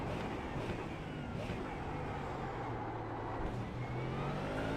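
GT3 race car engine in a racing video game on the Nürburgring GP circuit, a steady loud roar with shifting tonal harmonics throughout, continuous and close without breaks.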